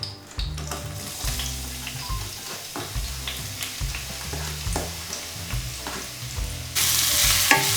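Chopped onions and curry leaves frying in hot oil for a Chettinad mutton curry: a steady, loud sizzle runs throughout, broken by repeated scraping stir strokes, close to the pan.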